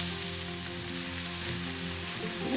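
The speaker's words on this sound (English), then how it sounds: "Gently saute this off until" Mushrooms and finely diced onion sautéing in a pan, a steady close sizzle and crackle of frying that runs unbroken throughout with a low hum beneath and no talking.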